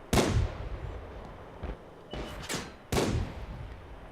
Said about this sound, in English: I think the AMX is firing HE